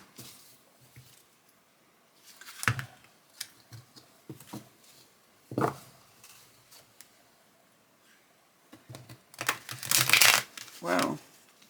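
Tarot cards riffle and flap in a few quick bursts, with a loud, crisp flurry near the end, separated by quieter handling sounds.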